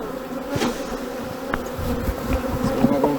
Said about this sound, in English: And I shake every bee down.